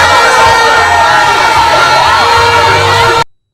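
A dense, loud crowd of party supporters at a rally in Assin Central cheering, whooping and shouting continuously before cutting off abruptly.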